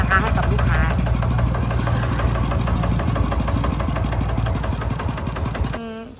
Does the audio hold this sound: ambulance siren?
no